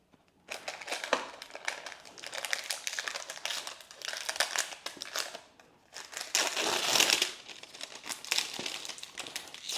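Steady crinkling and tearing of the plastic wrapping around a Dyson Air Wrap being opened, close and fairly quiet, continuing in irregular rustling bursts with a brief pause midway.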